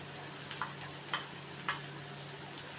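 Finely chopped green chillies and a piece of ginger fry in a pan with a soft, steady sizzle, broken by a few light ticks and scrapes of stirring.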